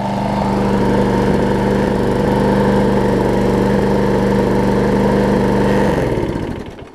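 Troy-Bilt self-propelled push mower engine running close up after a self-propel axle replacement and repairs for running issues, a loud steady mid-pitched drone with slight wavering that cuts out and winds down near the end.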